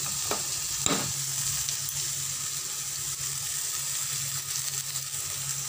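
A paste of ground poppy seeds and melon seeds fries in oil in a pan, giving a steady soft sizzle with a couple of light scraping stirs near the start.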